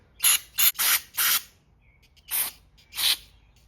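Aerosol cleaner shoots into the jet holes of a 110cc dirt bike carburetor: four quick hissing spurts in a row, a pause, then two more separated bursts, all close and sharp.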